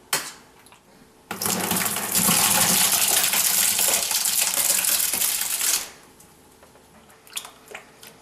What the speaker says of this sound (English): We're adding in the second half of the honey.